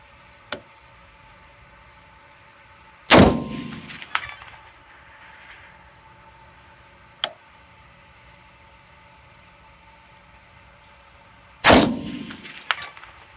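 Rifle shots from an AR-15 fired at a steel target 500 yards away sound as two loud, sharp cracks several seconds apart. Fainter ticks come between them, and insects hum softly in the outdoor background.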